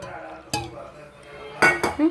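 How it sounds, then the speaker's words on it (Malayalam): Ice cubes and milk pouring into a blender jar or container while making muskmelon juice, giving a few sharp clinks and clatters in quick bursts, close and moderately loud. "അതിനകത്ത് ഐസ് കട്ടയും കൂടെ ഉൾപ്പെടെയാണ് വീഴുന്നത് കണ്ടല്ലോ"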